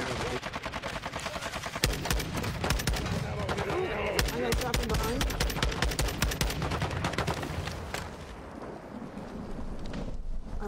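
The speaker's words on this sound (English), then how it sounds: "People shooting over here." Rapid, dense gunfire fills a shooter video game battle, with sharp cracks and bursts of automatic fire going on continuously and loudly throughout.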